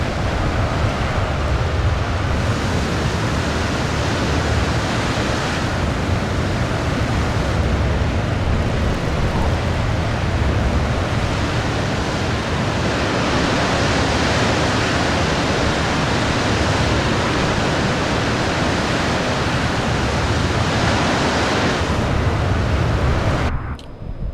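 Loud, steady roaring F-16C jet engine noise on takeoff in Microsoft Flight Simulator 2020, sustained throughout, broadband and unbroken, at full thrust, cutting off abruptly at the end.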